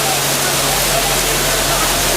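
Loud, steady broadband roar of a studio special-effect flood, tens of thousands of gallons of water rushing down a canyon set at a studio backlot, a continuous torrent filling the whole clip.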